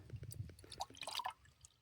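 Water pours into a cup while brewing up at a Peak District wild camp, a soft trickling and dripping fill heard close and faint outdoors.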